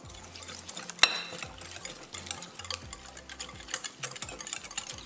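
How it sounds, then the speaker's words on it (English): Spoon stirring and scraping dahi mixed with salt, black pepper, red chili flakes and parsley flakes in a bowl, with a sharp clink near the start and a steady scraping rhythm throughout. "Mix it well."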